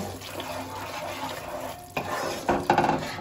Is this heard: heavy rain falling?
no